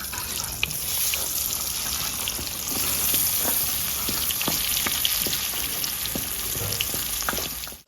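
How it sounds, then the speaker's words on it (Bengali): Pointed gourd (potol) sizzles steadily in hot oil in a village kitchen, a dense continuous frying hiss with scattered sharp crackles and pops, close and fairly loud throughout with no voices. "তেল গরম হয়ে গেছে পটল দিয়ে দিচ্ছি ভাজে নেবো"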